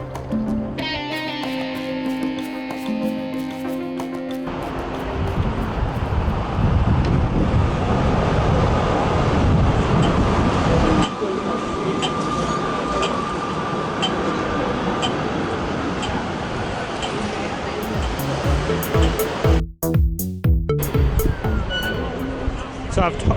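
A tram train rolls through Vienna, its steady rumble and rail noise continuous throughout, with a voice speaking over parts of the ride and brief tonal bursts near the end.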